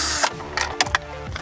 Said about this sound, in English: Remove this fifth bolt here.